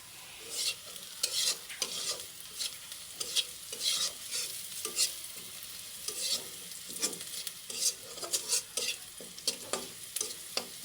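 Chopped onion and garlic lightly frying in a pan for momo filling, a soft background sizzle broken by frequent irregular scrapes and taps of a spoon stirring, close and without talk.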